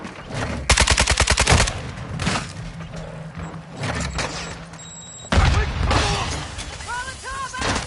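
Video game firefight gunfire: a loud rapid automatic burst up front, then scattered shots, a pause and another heavy volley, with game sounds between.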